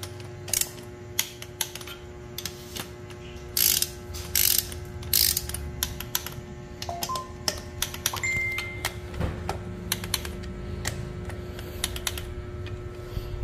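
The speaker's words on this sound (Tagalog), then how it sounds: "Ayan, gagamitan ulit ng torque wrench." Torque wrench ratchets in quick clicking bursts while tightening bolts on a Honda Click 199cc scooter engine fitted with a BRT 63mm block, close and crisp, with small metallic clinks between strokes and no voices.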